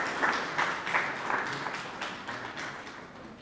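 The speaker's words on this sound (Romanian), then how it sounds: "da, aplaudați-i că merită." An audience at a Romanian storytelling event in Poienile Izei claps in thanks, a modest patter with a few sharper claps near the start that gradually softens over several seconds.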